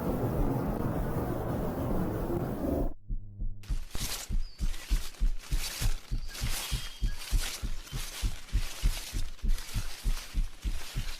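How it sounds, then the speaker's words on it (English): Heartbeat in a horror game, a steady thumping pulse repeating close and loud after a brief drop to silence, preceded by a dense rumbling noise bed. "The heartbeat is really scary"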